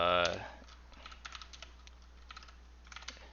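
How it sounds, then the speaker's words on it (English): Soft, scattered keystrokes on a computer keyboard while entering switch configuration commands, faint and irregular after a brief louder sound at the start. "And then I'm going to type"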